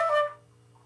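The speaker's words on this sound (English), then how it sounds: "trill that we're adding is a D to a fake E" Flute trill alternating between D and a fake-fingered E, a short bright fluttering burst of notes that fades quickly into quiet, heard alone.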